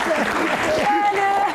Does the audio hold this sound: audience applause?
yes